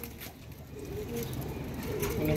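Pigeons cooing softly in a loft, with low repeated coos under a steady background murmur that grows slightly louder toward the end.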